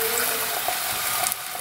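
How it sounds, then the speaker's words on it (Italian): Water pours steadily into a cooking pot of vegetables and potatoes for a vegetable broth. The stream is close and constant, hissing and splashing, with no voices. "dopo vado ad aggiungere l'acqua"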